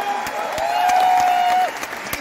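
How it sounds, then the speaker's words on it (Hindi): An audience at a Hindi-language motivational talk claps in a steady, dense wash of applause, with a sustained whistle-like tone through the middle that then fades. "एक बार जोरदार तालियां for सिद्धार्थ"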